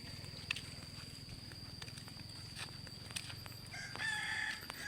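A rooster crows faintly from some distance in a quiet rural outdoor setting in Laos, over low background ambience with no one talking.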